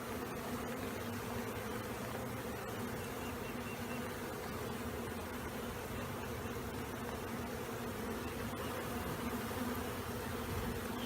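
A dense swarm of honey bees, a wet swarm, hums steadily, a constant layered buzz that fills the space, faint and with no voices over it.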